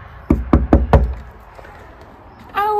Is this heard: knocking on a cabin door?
yes